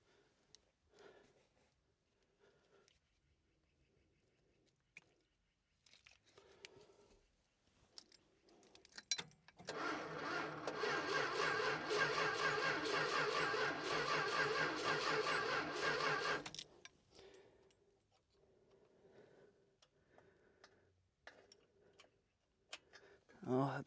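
An old Winnebago engine, parked for over 25 years, cranks and then runs roughly for about seven seconds as a loud, steady rumble, surrounded by quieter stretches of clicks, rattles and faint talking.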